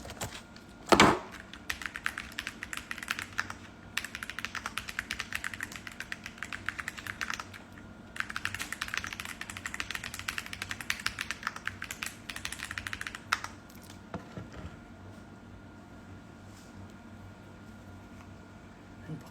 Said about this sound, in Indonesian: Unboxing a new keyboard